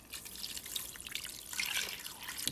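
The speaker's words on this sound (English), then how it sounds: "add 2 cups of water into the pot" Water being poured into an Instant Pot while making Haitian bouillon, a steady trickling, splashing pour that runs close and moderately quiet for a couple of seconds without any talk.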